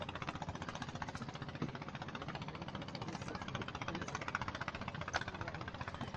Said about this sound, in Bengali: এখানে ওর নৌকা ইঞ্জিন আছে, ইঞ্জিন লাগানো আছে।